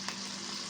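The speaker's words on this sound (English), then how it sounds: "if you're frying a bunch of blood" Chicken blood fries in oil in a wok, giving a steady, close, dense sizzle that holds evenly throughout, with no voices.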